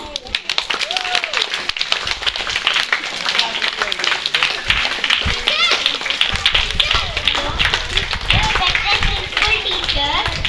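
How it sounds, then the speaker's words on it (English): A Republic Day gathering breaks into clapping, sharp scattered hand claps from a crowd under children's voices and chatter, continuing unevenly throughout. "Give a claps."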